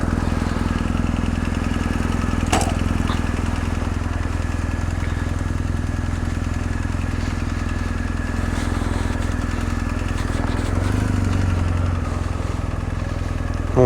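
A BMW R1250 GS Adventure motorbike engine running steadily and loudly close by, a constant low throb with occasional small clicks and clatter, no talking.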